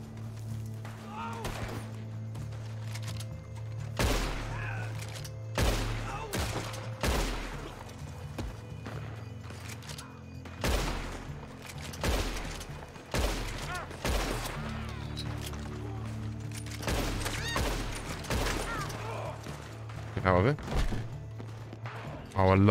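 Gunfire in the video game Red Dead Online: a string of sharp, separate shots spaced irregularly over a steady low game ambience, with someone talking throughout.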